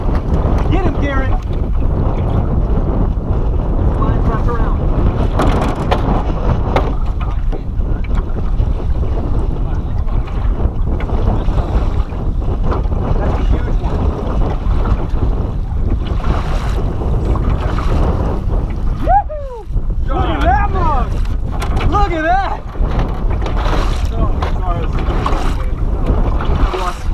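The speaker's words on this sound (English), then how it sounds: "It's so windy" Strong wind buffets the microphone on open water aboard a tiny boat while trout fishing, a constant roaring rumble, with people talking and shouting over it.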